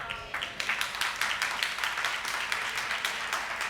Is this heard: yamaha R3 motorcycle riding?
no